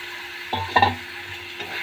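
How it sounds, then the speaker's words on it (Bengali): Prawns hit hot spiced oil with a sudden hiss and a clatter of stirring, the sizzle flaring briefly then settling into a steady low frying crackle, close and moderately loud with no talk. "এবার এতে আমি চিংড়ি মাছটা দিয়ে দেবো"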